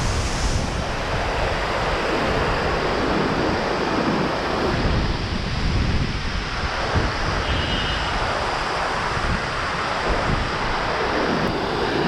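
A stream of water rushing on a mountain road trip near Chamba, Uttarakhand, making a steady, loud, close roar with some wind buffeting the microphone.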